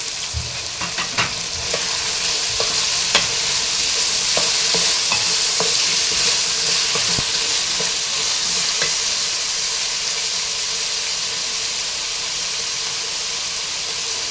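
Eggplant frying in a pan with tomatoes going in for vangi bath, a loud steady sizzle and hiss with a few light clinks of stirring early on, close and continuous without talk.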